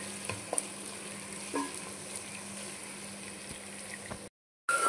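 Thinly sliced onions sauté in a pan, a quiet, even sizzle with a few light stirring taps, then a brief cut to silence near the end.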